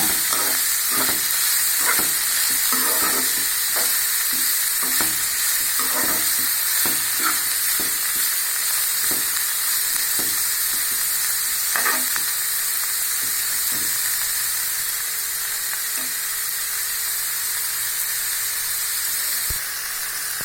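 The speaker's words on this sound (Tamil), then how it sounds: "இது நல்லா வதங்கட்டுங்க" Beans and other vegetables for noodles sautéing in a hot pan, a constant loud sizzle and hiss with repeated stirring taps and scrapes throughout, no talking.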